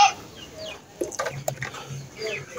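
Chickens clucking around a farm lock-up and layer coop, scattered calls rising and falling at moderate distance against outdoor background noise, with no talk over them.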